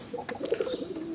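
A dove gives a brief, soft cooing call, a few low rounded notes over quiet background.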